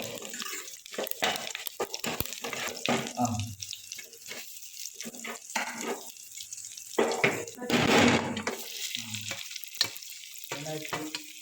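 Prawns fry in a pan, sizzling and crackling in close bursts that swell loudest about two-thirds through as they are stirred, with a faint voice now and then underneath.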